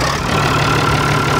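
An old drilling machine's engine idles steadily and loudly close up, a continuous low rumble with a constant mechanical drone and no pauses.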